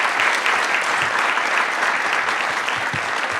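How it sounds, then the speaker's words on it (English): A luncheon audience gives a panel a big round of applause, dense steady clapping from a large crowd that fills the room at full strength throughout. "I'd like to give our panel here a big round of applause"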